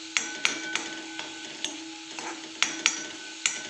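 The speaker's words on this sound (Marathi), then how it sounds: "छान मिक्स कर" Dal palak is stirred in a pan, with a spoon striking and scraping the metal in irregular sharp knocks over a faint background sizzle, and no one speaking.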